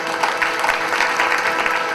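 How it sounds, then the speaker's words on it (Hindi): A crowd of devotees at a Hindu religious discourse applauding steadily, dense continuous clapping from many hands throughout, fairly loud and without talk. "सभी भक्त मिलकर हमारे पंडित जी का तालियों से स्वागत करें।"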